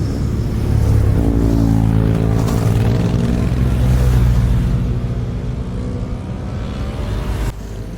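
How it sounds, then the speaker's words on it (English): Several vehicle engines rumble loudly through their exhaust pipes on a ride near Hoima, with revving swells that ease off and drop sharply near the end. "the different engine pipes sound like music to the soul"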